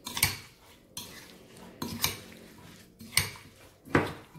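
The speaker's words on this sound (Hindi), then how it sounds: "और इसे हम अच्छे से मिक्स कर देंगे इस तरह" A spoon scrapes and clacks against a metal pot while stirring a raw garlic pickle mixture, in five distinct rhythmic strokes, close and fairly quiet.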